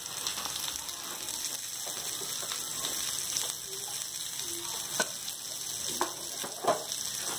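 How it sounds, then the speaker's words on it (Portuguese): Onion frying in a pan, with steady sizzle under light stirring and a few sharper scrapes or clinks near the end; no voices. "quando ela está douradinha, vai misturar a cebola agora."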